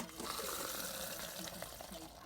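A drink pours from a tap aboard a narrowboat, a continuous splashing gush of liquid close by, with a voice speaking faintly underneath.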